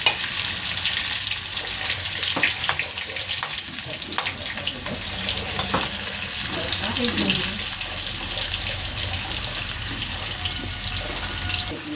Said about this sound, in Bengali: আলুগুলো একদম হালকা করে ভেজে নেব, বেশি পুড়িয়ে কড়া করে ভাজবো না,